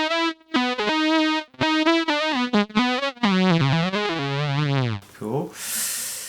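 An electric guitar played through a Fractal FM9 effects unit with a synth-like patch, giving a series of sustained, harmonically rich notes with a sliding descending phrase, ending in a noisy, distorted swell.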